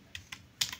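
Quick keystrokes on a computer keyboard, about five crisp clicks in under a second, close and clear with nothing else in the background.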